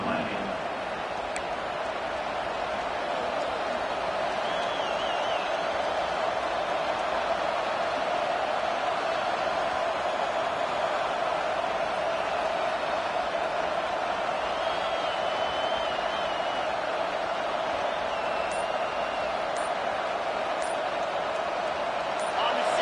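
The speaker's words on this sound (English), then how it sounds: "the crowd really making some noise now" A steady, loud stadium crowd roar in a video game fills the whole stretch during a timeout late in a tie game, with a commentator talking over the continuous din.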